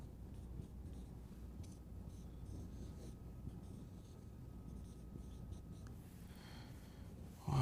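A marker drawing on a board, a continuous close scratchy squeak of strokes, ending with a brief louder knock.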